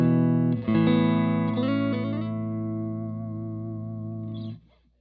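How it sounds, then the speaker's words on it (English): Electric guitar played through a compressor pedal run at 18 volts into a boosted amp: a few picked notes and a chord change ring out evenly, sustaining smoothly for several seconds before being cut off abruptly, close and clear. "Now I run this compressor at 18 volts."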